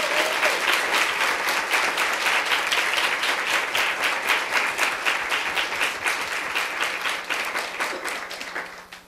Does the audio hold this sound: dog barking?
no